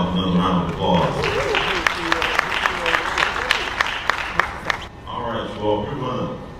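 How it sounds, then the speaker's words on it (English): An audience applauds speaker Randolph Love III at the 28th Annual Booker T Washington economic event, a steady wash of clapping with sharp individual claps through the middle, and voices talking at the start and end. "can we give Randolph another round of applause?"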